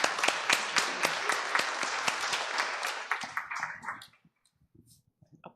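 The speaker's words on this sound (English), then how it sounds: "Applause makes me nervous" Audience applause at a justice and women's advocacy gathering, steady clapping for about four seconds before tapering off into near silence with a few scattered claps.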